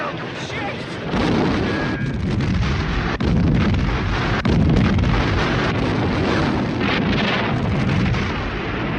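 Massive ammunition dump explosion in a World War II battle film, a continuous loud roaring blast rumble with sharp cracks and bangs layered throughout, dense and sustained from start to finish with voices buried in the din.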